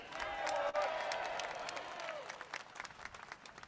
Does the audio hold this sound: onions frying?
no